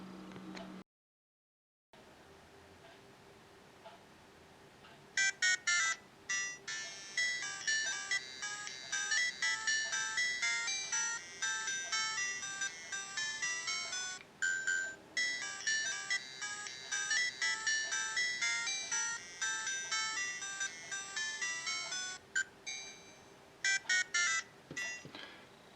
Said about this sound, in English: There are the two alarm tunes, both basically the first few bars of the Super Mario Land overworld